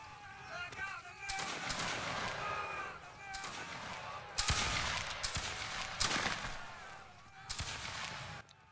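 Repeated musket volleys and scattered gunshots in a Waterloo battle video game, with sharp loud cracks rising over a constant din of battlefield noise and shouted voices.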